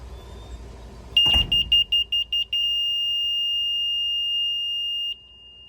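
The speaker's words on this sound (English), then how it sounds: "the audible alarm is extremely loud" A Milwaukee M3701 exterior rotary laser level sounding its audible alarm: a thud, then a quick run of about five loud, high electronic beeps that merge into one sustained shrill tone lasting several seconds before cutting off.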